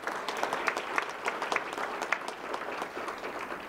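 Audience applause at a fire department awards ceremony, a steady crackling wash of many hands clapping throughout, moderately loud and with no talk over it.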